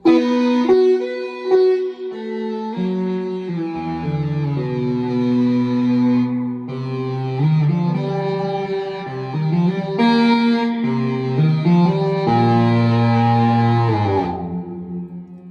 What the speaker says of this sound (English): we just crossed over to the synth lead, patch 9, which sounds like this